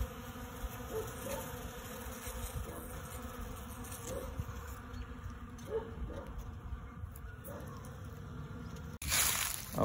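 Honeybees hum steadily at a live hive in early March, with the colony on pollen substitute: a dense, continuous buzzing close by, holding at a constant level, then a brief rustle near the end.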